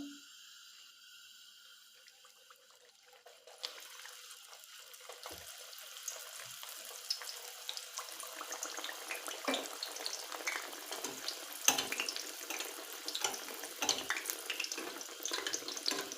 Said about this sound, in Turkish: Şimdi sırasıyla Pişilerimizi kızartmaya başlıyorum.